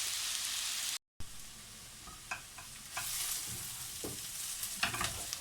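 Vegetables fried with pepper being stirred into borscht broth in a pot, a steady sizzling hiss with a few scraping clinks of the spoon, briefly cut off near the start.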